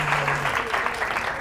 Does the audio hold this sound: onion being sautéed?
no